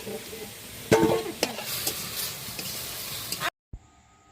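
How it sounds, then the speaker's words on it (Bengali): Potatoes frying with turmeric powder in a pan, with a soft sizzle and stirring scrapes, a louder clatter near the start, ending in a sudden cut to near silence with a brief thump. "হলুদ গুঁড়ো দিয়ে আরো দুই মিনিটের মতন ভেজে নেব"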